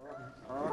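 A person imitates goose honks, a short nasal honking call close to the listener, rising in loudness toward the end.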